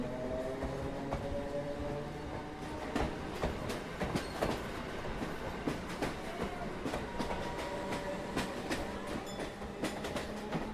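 A Mumbai local train rolls steadily along the tracks, with rhythmic clickety-clack of wheels over rail joints and a constant rumbling hum, fairly close and continuous.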